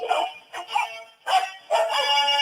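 A dog barks in four quick, separate bursts, fairly close and clear, with no talk over it.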